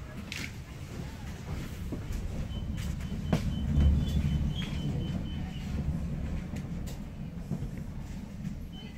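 A metro train leaves a Moscow depot and its current-collector rod rolls and scrapes along the contact rail, a steady low rumble with faint clicks and a swell midway, no voices heard.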